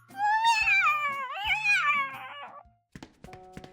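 A pregnant cat cries out in long, wavering meows, two drawn-out wails close up, followed by a few soft thumps and a short tonal sound as it fades.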